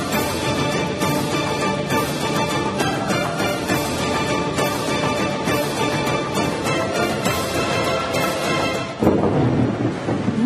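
Heavy rain pours down steadily in Bengaluru, a dense constant roar with rumbling thunder beneath it and a sharper crack near the end.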